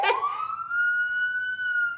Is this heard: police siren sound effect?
yes